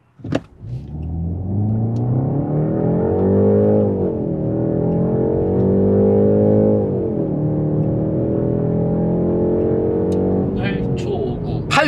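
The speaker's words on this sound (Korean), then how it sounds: "자 여기서 시속 100km까지 해볼게요" A BMW 520i M Sport, a rear-wheel-drive 190-horsepower mild hybrid with a 48V system, accelerating hard from a standstill to 100 km/h. The engine drone rises and drops through gear shifts, loud inside the cabin, with brief talk at the start and end.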